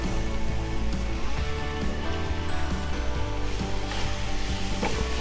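Mint leaves sautéing in a pan after fresh coriander for a tea-stall chutney, a loud, continuous sizzle and crackle with a dense, even texture throughout.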